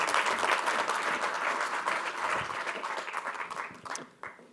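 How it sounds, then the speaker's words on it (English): Audience at MTN Group's Capital Markets Day 2023 applauds the Group CEO and CFO: dense, sustained clapping from a conference crowd that thins into a few scattered claps before fading out. "Ladies and gentlemen, a round of applause for Group CEO and CFO."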